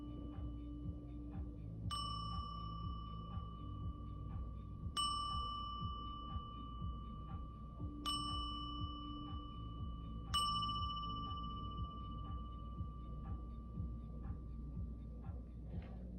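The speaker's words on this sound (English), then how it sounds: "I am going to ring this bell just to clear out some energy." A bell struck four times at spaced intervals, each strike a bright ringing tone with a long shimmering decay, clear and close in an otherwise quiet room.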